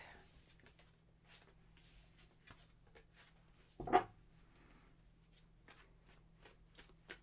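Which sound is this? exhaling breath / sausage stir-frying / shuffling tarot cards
shuffling tarot cards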